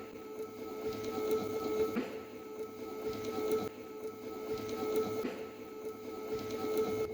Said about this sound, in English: The peristaltic pump is rotating in 129 rpm.